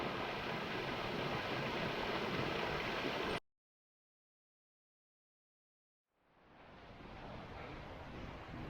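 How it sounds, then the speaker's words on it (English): Strong wind roars across a winter valley beside a brook in the Peak District, buffeting loudly, then cutting out to silence before gusting back up. "Wind's picked up, but there's no rain"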